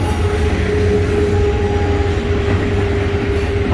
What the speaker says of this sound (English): that's a 3465 CSX 491 coming through. Freighter.